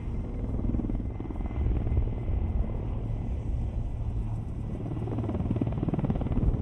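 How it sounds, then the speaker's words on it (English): An Oryx military helicopter approaches during an army air assault exercise, its rotor producing a steady low thudding rumble that holds at moderate distance and grows slightly stronger, with no speech. "now the Oryx helicopter will move in to drop the airborne assault force"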